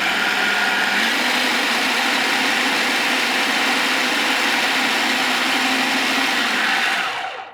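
A food processor whirs loudly and steadily as it grinds chickpeas and scallion into falafel paste, running continuously for several seconds before spinning down.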